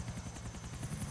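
A helicopter in GTA IV: The Lost and Damned, its rotor beating in a steady rapid rhythm with a constant engine drone, loud and close with no other sounds over it.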